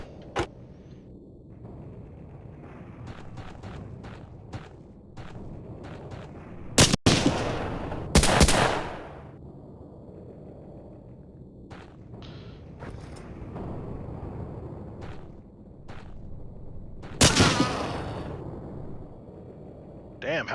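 Pistol shots crack out in the Hidden & Dangerous shooter, a handful of sharp loud reports spread across the stretch, with quieter game clatter and someone talking over much of it.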